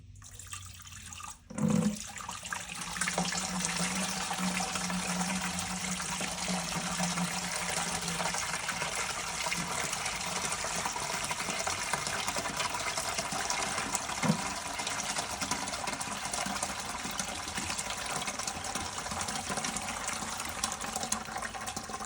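Water pours through a homemade clear sluice, a steady, close trickle and splash that runs continuously, with a brief thump and gush near the start.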